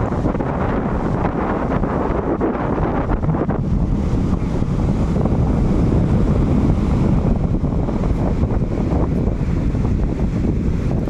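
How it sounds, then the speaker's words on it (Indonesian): Wind and moderate sea waves roll onto the beach at Laguna Glagah, Kulon Progo. The noise is steady and broadband, with wind buffeting the microphone throughout and no talking. "Ombaknya pun tidak terlalu kencang."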